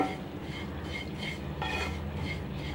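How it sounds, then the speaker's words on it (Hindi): Vermicelli roasts in ghee in a pan while being stirred continuously, producing soft, steady scraping and faint sizzling that come through close and fairly quiet. "लगातार चलाइए। सिवई हमारी लगभग भुन गई है।"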